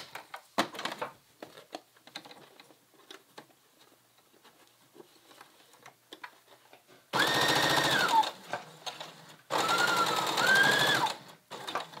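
A sewing machine stitches two pieces of fabric placed right sides together, with two loud sustained runs of rapid stitching after several seconds of quiet clicks and handling noises.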